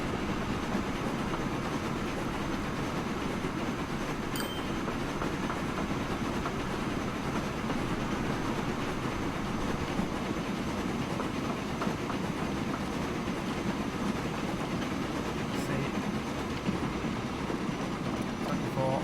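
A train passing and slowing in the Train Fever video game, a steady rumbling clatter of rail cars that stays continuous and moderately loud throughout.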